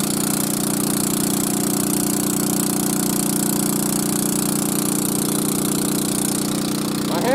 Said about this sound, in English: Well, the pump started right up.